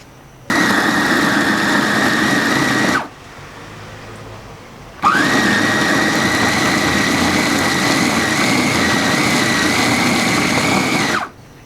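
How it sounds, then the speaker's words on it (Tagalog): Dreepor multi-food processor running on turbo spin while chopping pre-boiled banana blossom: a loud, steady motor whine runs for a few seconds, stops briefly, then starts again and holds evenly until it cuts off, with no talking. "i-try ko po na yung kanyang turbo na spin yung diretsyong gagamitin"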